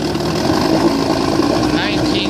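A repaired 1960 Elgin 18 hp outboard motor runs at a steady, close buzzing idle throughout, with a voice speaking over it.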